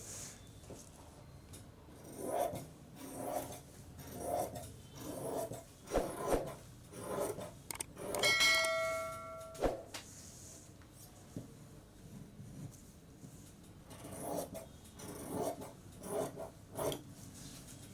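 Scissors cut through a fabric border piece for a puff sleeve, giving a series of short rasping snips in an uneven rhythm, close and fairly quiet, with a brief tonal squeak midway.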